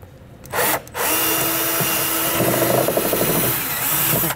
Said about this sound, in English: the easiest way to get these out is just to drill out the center